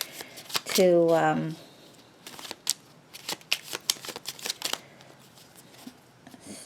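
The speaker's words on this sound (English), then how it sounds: "So let's just gonna shuffle a little bit more" Tarot cards being shuffled in rapid, crisp riffles and taps, close and clear, in bursts between moments of someone speaking softly.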